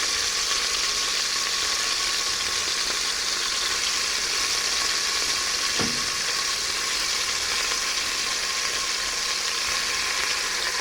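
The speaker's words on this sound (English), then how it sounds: "So just add the beef into the pot." Beef being added to a pot for stew sizzles loudly and steadily in the hot fat, a dense continuous frying hiss with one brief knock partway through, no voices.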